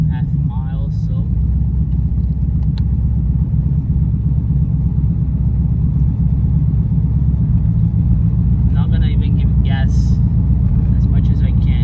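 Corvette engine running gently on light throttle, a steady low rumble that stays constant throughout, with talk faintly over it near the start and near the end.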